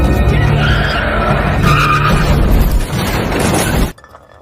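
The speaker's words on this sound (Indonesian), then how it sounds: "setir berbelok tajam dan menghantam pembatas" A car swerves sharply with a loud, sustained tyre screech and engine roar, then slams into a barrier with a crunching impact and breaking debris before cutting off abruptly.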